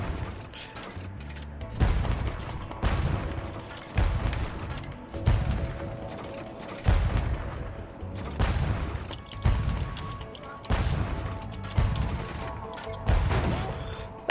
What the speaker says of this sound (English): shooting some birds with a cannon